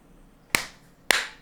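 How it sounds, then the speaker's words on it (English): Two sharp hand claps from a One Piece anime episode, crisp and close, about half a second apart, each with a short bright ring-off over a quiet background. "No, it was just a clap."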